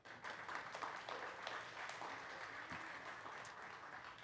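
A church congregation applauds, steady soft clapping heard from a distance that continues for a few seconds.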